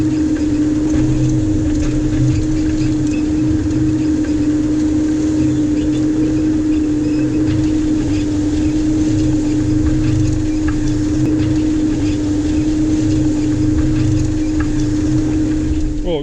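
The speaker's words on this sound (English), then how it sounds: "drop the pickup and the baler down," Baler running steadily with its pickup lowered, a loud continuous engine drone with a steady hum and mechanical rumble, close by and unbroken throughout.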